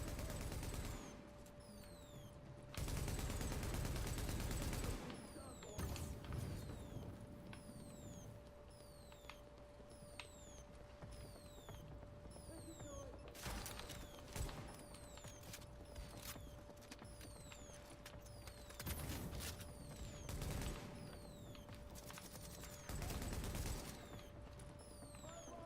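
Automated turret firing in The Division, a steady stream of gunfire running across the scene with louder bursts near the start, with another short burst later, over a constant mechanical hum.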